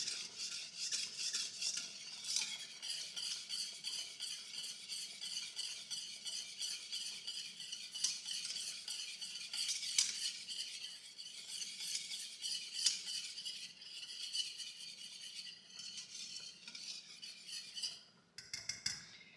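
Spoon stirring gravy in a skillet after frying chicken, a continuous quiet scraping and swishing against the pan with steady rhythmic strokes, close up and with no talking.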